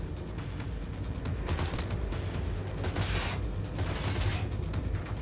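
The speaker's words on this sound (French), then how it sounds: "Il a fini de me tirer dessus par contre." Gunfire in the video game Cyberpunk 2077, a dense continuous clatter of shots and mechanical noise with rumbling low end that stays at a steady level throughout, and no talk.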